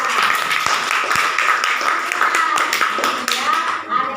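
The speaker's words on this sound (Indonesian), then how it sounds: "tepuk tangan untuk mereka berdua" Audience clapping for two students in a classroom, a steady wash of hand claps with a few sharp individual claps standing out, fairly close and continuous, fading near the end.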